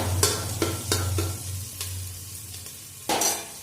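Pastes stirred and spread in a frying pan for a vegetable khichuri: several distinct scraping strokes of a utensil against the pan over a low, steady sizzle, with no talking.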